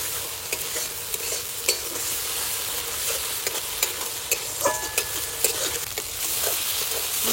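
A paste of ground green and dry chillies is stir-fried in oil for a village meat curry, producing a continuous close hiss broken by regular sharp scrapes of a spatula against the pan.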